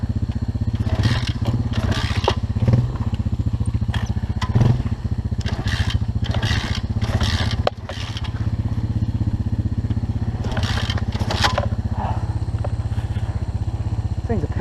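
A pit bike being started: a repeated rough, sputtering engine rattle with scraping and clattering bursts, loud and close, alongside people talking.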